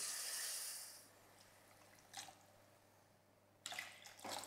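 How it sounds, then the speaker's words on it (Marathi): Water pours into a pan for cooking Maggi noodles with vegetables, a soft hissing splash at first, then a quiet pause and short later bursts of pouring. "आता आपण यात पाणी ओतूया"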